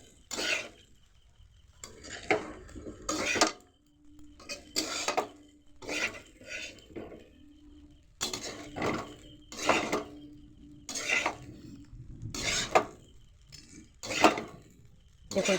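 Boiled pasta tossed with fried vegetables for Chinese-style masala pasta, a spatula scraping and clinking against the pan in repeated bursts, close and fairly soft, with a faint voice briefly in the background.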